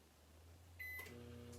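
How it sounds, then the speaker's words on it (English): Low steady hum of a running microwave oven with a brief high electronic tone partway through, close by and fairly quiet. "My microwave's making noises"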